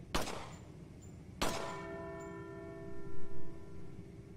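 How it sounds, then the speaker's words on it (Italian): A church bell in Resident Evil 4 struck by gunfire: two sharp metallic clangs about a second apart, the second ringing out with a long sustained hum. "Lì c'è una campana."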